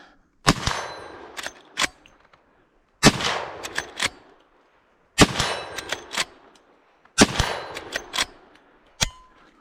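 A Rossi R92 lever-action rifle firing .357 rounds outdoors: four loud, sharp shots, each followed by metallic clacks of the lever cycling and brass ejecting, spaced a couple of seconds apart.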